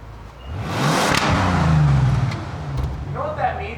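A turbocharged V12 car engine with straight-piped exhaust revs up loudly, swells and settles over a few seconds, close by in a mall setting, with faint voices at the end.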